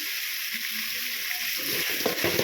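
Tomatoes with salt sautéing in a pan, a steady soft sizzle with faint stirring scrapes toward the end.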